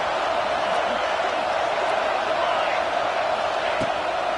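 A football stadium crowd at an Auburn game roars in a steady, dense wash of cheering during a 3rd down play, sustained and distant-sounding with no distinct voices standing out.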